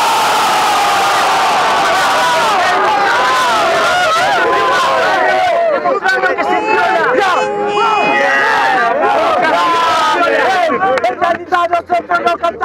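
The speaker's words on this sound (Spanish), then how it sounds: "el aplauso para el caradura" A crowd at a 3vs3 freestyle rap battle final roars with loud cheers, whoops and clapping, a dense sustained wall of noise that stays heavy for the whole stretch.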